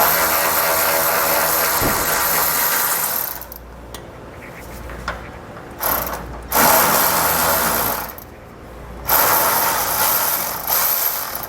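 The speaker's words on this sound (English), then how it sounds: "So we'll grab our socket and get it removed." A socket wrench loosening a 16mm head bolt on a jounce bumper during an air helper spring install on a 2018 Ram 2500, heard as bursts of mechanical ratcheting and clicking broken by short pauses.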